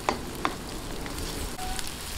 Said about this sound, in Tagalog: hintayin lang po natin maluto yung sibuyas o lumambot